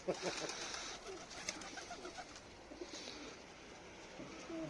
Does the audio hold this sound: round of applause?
no